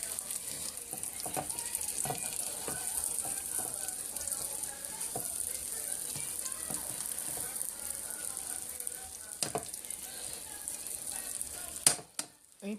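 Food fries in a pan with cheese melting on top, giving a steady, faint hiss and crackle broken by scattered pops and light scraping sounds, with a louder clatter near the end.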